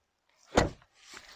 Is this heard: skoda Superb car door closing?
yes